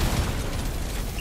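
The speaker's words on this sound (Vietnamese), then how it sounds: "Nổ." Explosion in the top-down mining shooter Deep Rock Galactic: Survivor, a dense, loud burst of rumbling blast noise filling the whole moment with no talk over it.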